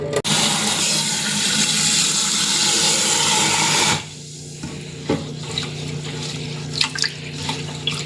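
Rice under a running kitchen tap gives a loud, steady rush of water for several seconds. The flow then stops, leaving softer drips, swishes and splashes as the grains are swirled in the bowl.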